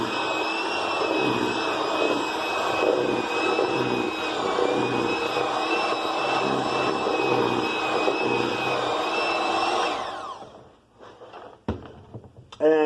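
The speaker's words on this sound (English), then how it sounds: "we're going to mix it on low until the dough separates from the side of the bowl there" Stand mixer beating cookie dough on low speed, a steady close motor whine with a rhythmic churning under it, stopping after about ten seconds and followed by clatter and handling sounds.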